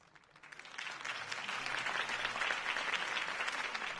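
Applause from a crowd after a campaign speech in the Batman Telltale video game, starting sparse and swelling into dense, steady clapping that stays loud to the end.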